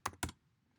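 Two quick close keystrokes on a computer keyboard, sharp clicks a fraction of a second apart, then quiet.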